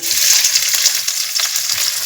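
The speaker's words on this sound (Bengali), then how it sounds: "তেলটা হয়ে আসলে আমি পেঁয়াজগুলো দিয়ে দিলাম" Onions sizzling and crackling steadily in hot oil in a wok, a dense, loud frying hiss with faint stirring scrapes and no talk.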